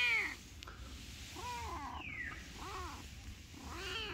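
Several kitten meows ring out one after another on a farm where three young kittens have just arrived. They are clear, moderately close and spaced about a second apart, with a steady low background hum beneath them.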